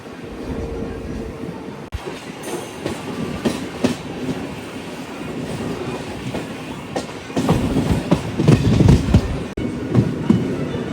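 Onboard an Anantapur–Bengaluru MEMU passenger train running on rails, a rolling rumble with rhythmic clickety-clack wheel beats that grows louder and busier near the end, with no talking.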